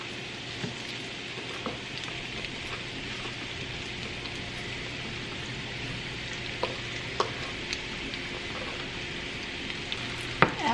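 Vegetables and onions sear in hot olive oil in a pan, a steady low hiss of frying with a few small pops and clicks scattered through, fairly faint throughout.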